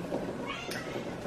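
A cat meows once, begging for food in a home kitchen; a short, mid-loud cry rising over a steady background hum.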